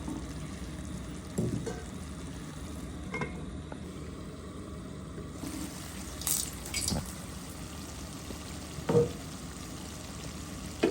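Dried mola fish with brinjal and potato cooks covered on low heat, giving a faint, steady sizzle and bubbling with a few light clinks and taps from the pot.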